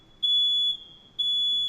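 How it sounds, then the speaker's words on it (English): A smoke alarm beeps twice, each a loud, piercing, steady high-pitched tone lasting about half a second, separated by a short gap, with no one speaking. "we're gonna end this episode because of the smoke alarms"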